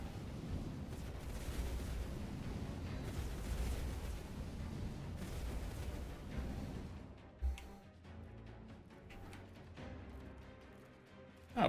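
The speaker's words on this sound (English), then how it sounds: "So many explosions." Explosions in the video game Dungeons 3 roll as a dense, rumbling barrage for several seconds, then thin into scattered booms and crackles, with one sharp burst near the end.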